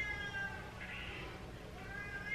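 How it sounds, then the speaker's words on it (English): Cats fighting outdoors give drawn-out yowling caterwauls, rising and falling in a couple of long wails, somewhat distant but clear against a quiet background. "Can you hear that? That's the cats fighting outside."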